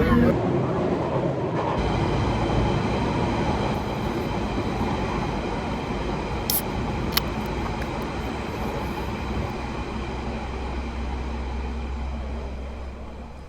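A train rumbles past steadily for a long stretch, a dense continuous roar of wheels and wagons with a couple of faint high clicks.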